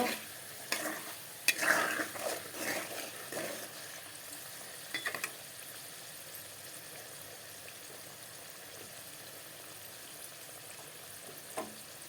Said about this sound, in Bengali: দেখো আলুগুলোকে লাল লাল করে ভেজে নেব